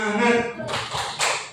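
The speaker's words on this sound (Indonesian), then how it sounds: "Oke, yang paling gampang tepuk semangat." A group does a rhythmic spirit clap in a school session on positive culture, with a voice chanting before two sharp bursts of clapping.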